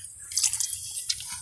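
Water rinses spilled brake fluid off car parts during a brake master cylinder replacement, producing quiet drips and light splashes that come in small irregular bursts over a low steady background hum.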